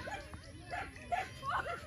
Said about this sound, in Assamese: মোৰতো কুকুৰ কেইটা চাই কেনেকৈ খেদি আছে